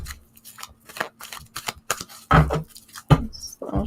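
Tarot cards being shuffled by hand, a series of short papery riffles and soft slaps at close range, with a couple of louder thumps partway through and no talking.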